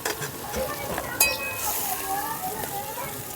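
Flat beans and potatoes fry in hot oil in a wok, giving a steady close sizzle with occasional clinks of a utensil.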